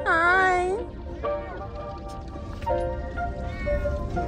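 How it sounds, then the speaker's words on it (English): A newly adopted kitty at a family Christmas meows loudly and up close, followed by a few softer, drawn-out meows as voices speak nearby. "You gonna pick up the cat?"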